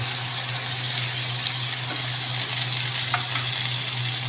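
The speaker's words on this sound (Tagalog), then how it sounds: "Ipiprito muna natin siya ng konti kasi para mag-brown ng kulay niya" Steady sizzling and crackling of chicken frying in a pan, continuous and close, with a low constant hum underneath and no talking.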